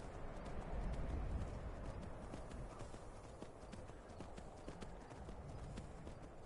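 A horse in Skyrim trots along with quick, regular hoof clip-clops, steady and close over a soft background wash.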